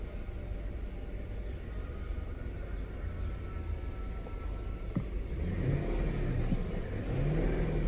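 A Lexus LS430 V8 engine with a cylinder 8 misfire idling and then revving, a steady close rumble that rises and swells in the last few seconds.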